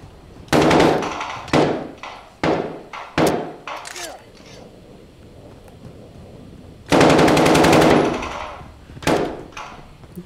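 Loud bursts of automatic machine gun fire in the shooter game Modern Warfare, several short volleys and one long sustained burst, close and punchy, with gaps of quieter ambience between them.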